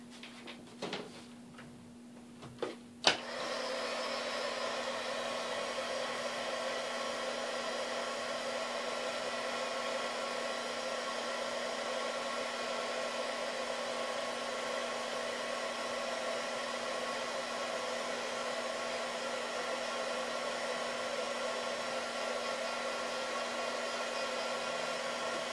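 A handheld hair dryer is used to dry ink on a handmade greeting card, starting after a few clicks and handling sounds, then blowing with a steady, loud, close whirring hum without a break.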